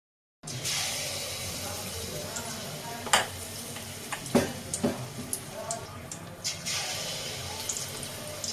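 Malpua batter sizzles as it fries in hot oil over medium heat, a steady bubbling hiss broken by a few clinks of a utensil against the pan.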